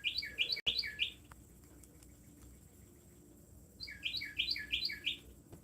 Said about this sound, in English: a cardinal over there. I think he's calling his girlfriend.